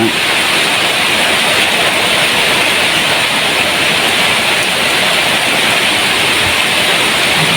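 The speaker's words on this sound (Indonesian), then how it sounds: "Hujannya mulai membesar ini" Steady heavy rain pours outdoors during potted coconut bonsai care in water, a dense continuous hiss filling the scene at constant loud level, with no clear breaks or rise in intensity.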